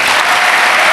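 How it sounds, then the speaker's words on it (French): Loud, dense applause from a television studio audience fills the moment, a steady wall of clapping with no voices on top. "Je crois qu'on peut l'applaudir"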